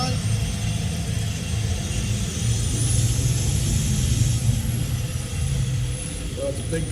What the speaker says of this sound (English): So it's a big Goodwill Industries truck going by